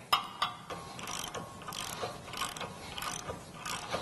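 A hand ratchet tightens lug nuts on a Jeep JL rear bumper tire carrier, giving quick repeated clicking strokes in short bursts, close and fairly quiet, with no talking.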